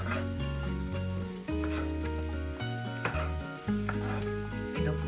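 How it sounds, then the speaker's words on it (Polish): Halved cherry tomatoes frying in a pan for a tilapia dish with spinach-tomato sauce, a steady loud sizzle with no voices, while background music plays throughout. "I te pomidory lądują na patelni też."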